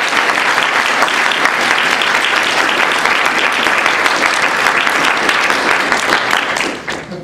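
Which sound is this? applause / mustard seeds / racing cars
applause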